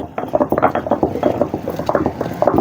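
Henna leaves are ground by hand on a traditional stone grinder, giving a steady run of close, scraping and knocking strokes repeated rhythmically throughout.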